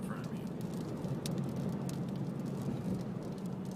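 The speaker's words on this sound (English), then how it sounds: "can hear all the dust and rocks and stuff bouncing off the windshield." Dust and small rocks pelt a car windshield from inside a vehicle driving through an Arizona sandstorm, making a steady dense hiss with scattered sharp ticks and rattles throughout.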